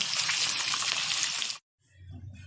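Shalpia fish frying in hot oil, a loud, dense sizzle for about a second and a half that cuts off abruptly, followed by a quieter, softer hiss and low rumble.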